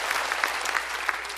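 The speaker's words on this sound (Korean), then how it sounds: "우리 하나님께 영광의 박수." A church congregation at Singil Church gives a brief burst of brisk, dense applause from many hands, with no voices.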